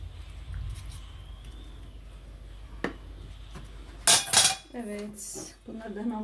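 Dishes and cutlery clatter and clink as they are loaded into a dishwasher in a home kitchen, with a couple of loud bursts of rattling near the middle and quieter handling before and after.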